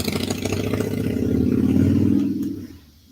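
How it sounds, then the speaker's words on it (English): A motorcycle engine growls nearby, swelling as it passes and then fading quickly into quiet. "Motorcycle. Yeah. That was just a motorcycle."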